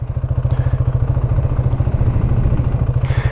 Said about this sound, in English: Start your bike,